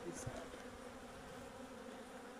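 Honeybees from a ten-frame colony found in a roof make a continuous, even buzzing drone that fills the space close by.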